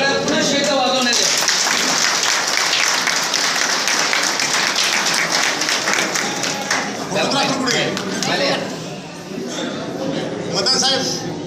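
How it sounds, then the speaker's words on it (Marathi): Loud audience applause fills a veterans' association anniversary gathering in Pune, sustained clapping with voices speaking and calling over it before it thins slightly toward the end. "जोरदार टाळ्या पुन्हा शेत वाजवण्यात येते."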